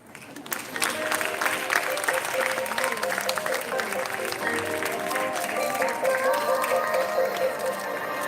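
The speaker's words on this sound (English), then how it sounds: "A big round of applause for audacious Juliet Lake." Audience applause for Juliet Lake at the TED Talks India launch, a swell of clapping that builds quickly and holds steady, with music playing under it.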